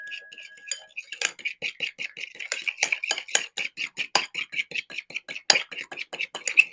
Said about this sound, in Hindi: चलो जी, अब फिर इसे अच्छी तरह से मिक्स कर लेंगे।